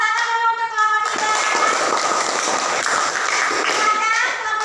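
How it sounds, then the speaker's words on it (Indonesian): A classroom of children claps for a student group, a burst of applause that carries on for several seconds, with a teacher's voice and children talking over it at the start. "Ya, tepuk tangan dulu untuk kelompok 3."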